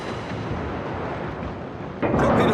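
Naval gunfire in World of Warships, a deep continuous rumble of distant heavy shots that swells into a louder, nearer blast close to the end.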